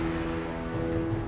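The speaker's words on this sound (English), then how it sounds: "This lethal rain would burn flesh on contact." Steady rain patters densely on a surface, a loud continuous hiss with no voices, depicted as corrosive acid rain falling on a prehistoric landscape.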